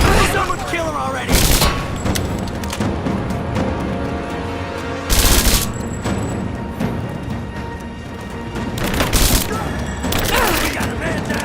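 Gunfire in the video game Rise of the Tomb Raider, loud bursts of automatic fire and sharp shots in several volleys, mixed with shouting voices and game sounds.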